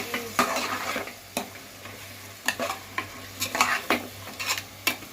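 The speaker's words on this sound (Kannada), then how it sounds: "ಸ್ವಲ್ಪ ಧನಿಯಾ ಪೌಡರ್ ಹಾಕಿ ಫ್ರೆಂಡ್ಸ್. ಅದಾದಮೇಲೆ ಚೆನ್ನಾಗಿ ಮಿಕ್ಸ್ ಮಾಡ್ತೀನಿ." Coriander powder is stirred into a frying onion and tomato masala for chicken dum biryani, with a spoon scraping and tapping the pan in repeated strokes over a low, steady sizzle.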